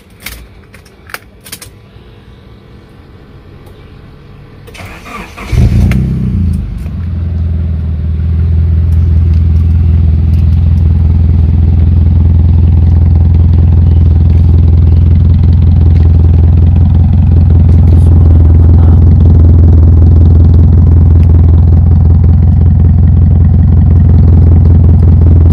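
A Honda Accord Cielo's engine turns over and catches, then settles into a loud, steady idle with a deep rumble that holds for a long stretch.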